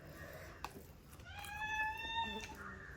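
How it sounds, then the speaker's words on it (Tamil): A cat gives one drawn-out, clear meow at close range, rising then falling, with faint background rustle and a small click before it. "இப்போ வந்துட்டு பூனை"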